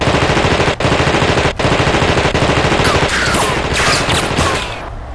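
Rapid machine-gun fire from above in the video game Cyberia, a loud, dense automatic burst with brief gaps, then tapering into scattered shots and ricochet-like cracks before fading.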